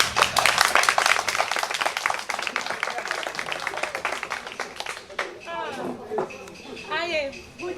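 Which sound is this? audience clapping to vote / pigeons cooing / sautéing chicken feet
audience clapping to vote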